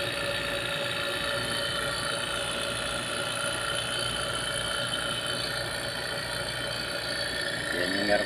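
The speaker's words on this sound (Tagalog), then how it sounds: "Yan, vacuum pump natin, malaki." A large vacuum pump hooked to an LG dual inverter 1.5 HP split-type aircon runs with a steady, continuous mechanical hum and whine at moderate level, unchanging throughout.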